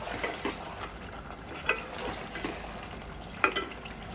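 Mutton bhuna being stir-fried in a pot, dhaba style: a soft continuous sizzle with scraping stirs and a few sharper clinks of a spoon against the metal, close and fairly quiet.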